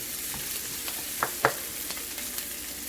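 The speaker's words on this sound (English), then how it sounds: "I'm gonna saute them nicely." Onions sauté gently for dried shrimp masala, a soft steady sizzle with a few sharper crackles and spatula taps, fairly quiet and close, no voices.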